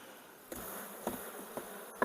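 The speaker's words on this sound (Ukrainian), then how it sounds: "І отак потихеньку струшуємо туди молоду бджолу." Honeybees buzz as young bees are shaken from a brood frame into a carrier, a steady soft hum with several brief thumps and louder swells from the shaking, no talk.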